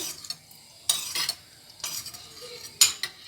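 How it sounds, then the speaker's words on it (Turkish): Fat melting in a pan for a Turkish village-style zucchini dish, heard as soft sizzling with sharp utensil scrapes and clinks from stirring in three bursts, close and moderately loud. "Burada da tekrar yağ eritiyoruz."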